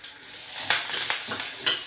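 Peanuts frying in a pan with garlic and cumin for tomato coriander chutney, a steady close sizzle broken by a few sharp stirring scrapes and clinks, no voices.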